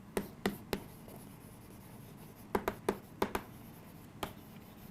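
Chalk or marker tapping and scratching on a board in short, sharp strokes: a quick cluster of three, a pause, then a burst of five or six more, close and fairly faint in a quiet room.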